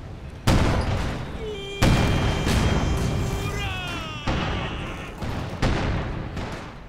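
A Katyusha rocket artillery barrage in the game Company of Heroes 2 pounds out a series of heavy booming impacts every second or so, with whistling rocket streaks between blasts and a commentator talking over it.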